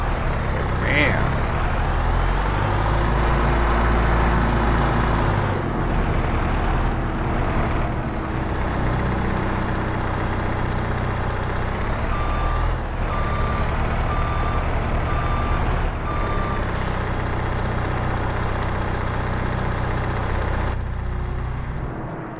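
Truck engine rumbles steadily in Farming Simulator 22, with a brief run of high reversing beeps partway through, loud and continuous under occasional talk.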